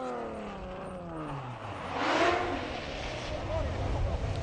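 A Porsche rally car in the GT+ class at the Rallye du Touquet drives past, engine note rising and falling with Doppler sweeps, then roaring louder as it approaches under faint background noise.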